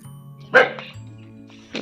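A dog barks twice, sharp and fairly close, about a second apart, over a steady low tonal hum.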